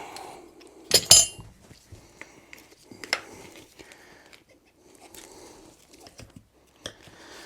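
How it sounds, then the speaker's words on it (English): Metal tire spoon worked against a motorcycle tire bead while changing an adventure bike tire: sparse metallic clinks and scrapes, with a sharp clatter near the start and quieter fiddling after, close and intermittent. "go ahead and put our first tire spoon in"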